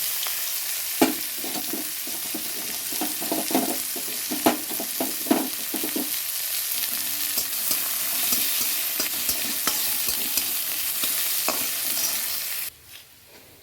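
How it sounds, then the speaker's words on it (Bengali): Onions frying in a pan with a steady sizzle and repeated scraping stirs near the mic, louder in the first half. The sound drops off abruptly at the end. No one speaks. "এবার পেঁয়াজটা দিয়ে দিচ্ছি"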